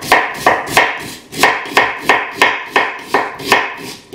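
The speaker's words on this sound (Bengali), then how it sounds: "পেঁয়াজ আছে, আমি পেঁয়াজটাও কুচি কুচি করে কেটে নিচ্ছি।" A knife chops an onion finely on a board, about ten crisp, evenly spaced strikes at a steady rhythm, close and clear with no talking.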